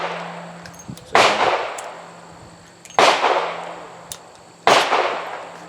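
Three sharp, loud gunshots from a Smith & Wesson 642 .38 Special revolver firing 158 grain jacketed hollow point ammunition, evenly spaced about two seconds apart, each a hard crack with a short echoing tail, outdoors with no talk.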